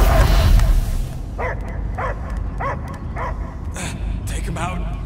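A dog barks and yips in repeated sharp bursts inside the Guardians of the Galaxy video game, following a rumbling voice line, with game ambience underneath.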